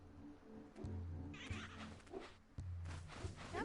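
A cat in the Jak and Daxter video game meows repeatedly, drawn-out cries rising and falling over steady game music and ambience, with no one talking.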